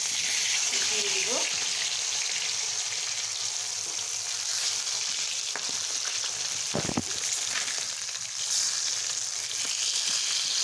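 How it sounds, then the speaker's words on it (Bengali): Fish fries in a pan with a steady, bright sizzle that runs throughout, joined by a few brief clinks and scrapes of cooking utensils. "তো মাছ ভাজাটা এখন হয়ে গেছে"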